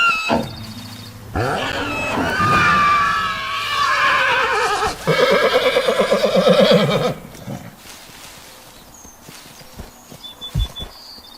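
A horse in the Roblox game Ecos La Brea whinnies loudly in a long, quavering neigh, followed by quieter snorts and scattered thumps; no one speaks.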